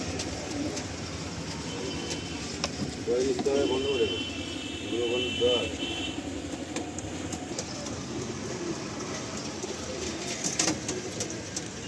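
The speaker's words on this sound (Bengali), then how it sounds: "এখানেও দেখুন পায়রা রয়েছে" Paired Malwai pigeons in breeding cages coo in a few low, rolling bursts nearby, with a steady background hum and faint clatter.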